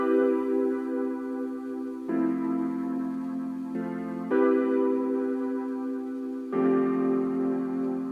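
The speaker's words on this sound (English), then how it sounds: "I found an electric piano and I just played these really simple chords." Simple sustained chords on an electric piano change every couple of seconds in a slow, even progression, warm and close with nothing else playing.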